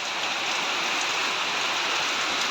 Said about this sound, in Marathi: थोडा थोडा पाऊस झाला सुरू.